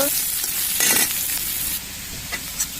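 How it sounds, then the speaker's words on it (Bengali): Onions frying lightly in a pan with pumpkin pieces for a hilsa fish curry, a steady close sizzle broken by a few scraping stirs of a spoon. "পেঁয়াজগুলো হালকা একটু ভেজে নিব।"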